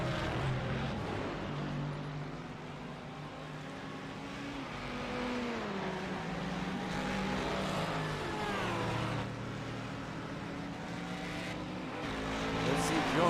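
Old GT1 race cars accelerate down the straights at the Long Beach street circuit, engines droning and rising in pitch through gear changes, layered with other cars, steady and moderately loud under a commentator's voice.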